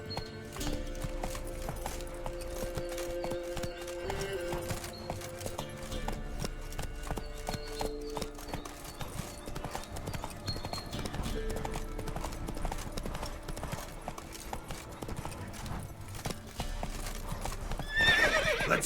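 Roach, Geralt's horse in The Witcher 3, gallops with a steady clip-clop of hooves and lets out neighs and whinnies, heard over game music and ambient sound throughout.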